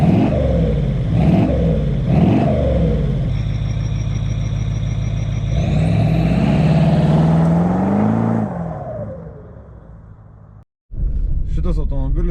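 A 3.6-litre TDV8 diesel in a Range Rover L322 revs up and down repeatedly, rising to a sustained high-pitched roar before dropping back and cutting out, loud and close.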